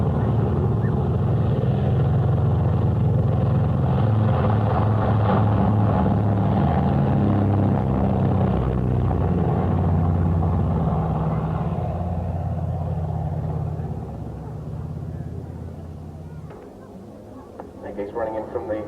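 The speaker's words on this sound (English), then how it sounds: "He's running in from the left again with those classic radial engine noises" Radial engines of a Catalina amphibious flying boat drone loudly as it flies past at the 1987 Leicester air display, a heavy rumbling roar that slowly fades away, with a commentator's voice heard over it.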